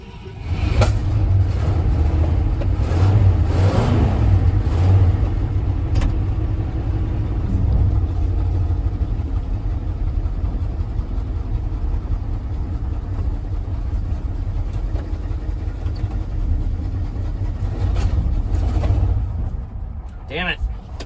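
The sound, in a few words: Ford F-100 truck engine running and backfiring through the intake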